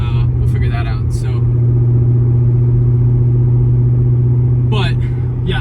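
A car engine in a video game drones loudly with a steady mid-pitched hum, holding an even tone throughout, while a person talks over it at the start and end.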